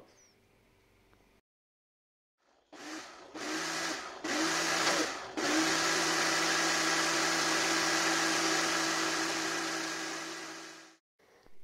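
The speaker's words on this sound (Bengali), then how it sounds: "এই অবস্থায় আমি বের করে খুব ভালোভাবে ব্লেন্ড করে নিব।" A kitchen blender whirs through a half-frozen mango ice cream mixture, starting with a few short pulses and then running continuously at a loud, steady pitch for several seconds before cutting off.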